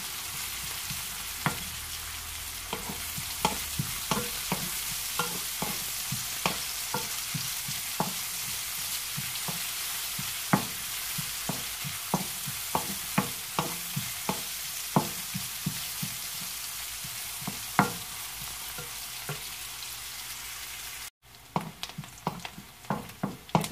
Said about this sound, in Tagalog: Ayan, gisa.